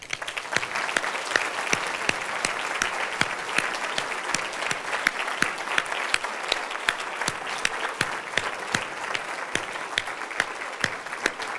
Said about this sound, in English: please join me in a final round of applause for our honorees